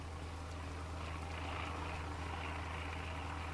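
Helicopter flying overhead in the zombie survival video game SurrounDead during rain, a steady low droning rotor rumble mixed with a hiss of rainfall, fairly faint and constant throughout.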